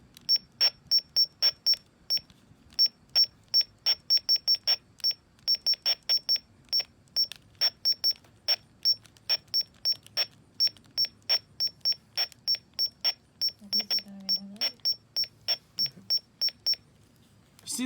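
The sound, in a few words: weather radio button beeps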